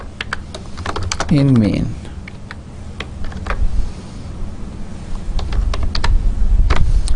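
Typing code on a computer keyboard, quick bursts of sharp key clicks spread through the stretch while someone talks over them.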